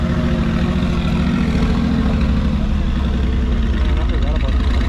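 A lifted, modified Mercedes G-Wagon idles at a private car meet with a steady, loud, deep engine rumble throughout, while people talk nearby over it.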